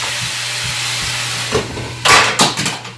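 Vegetables tipped into a pan of softening onions sizzle and hiss steadily, with bursts of louder crackling and clattering as they land, close and fairly loud.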